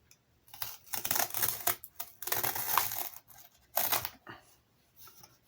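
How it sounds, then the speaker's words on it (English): Knife cutting the old spine out of a handmade journal, giving several bursts of scraping, slicing noise in short strokes with pauses between, close and fairly quiet. "let me grab my knife here and cut this out right in here"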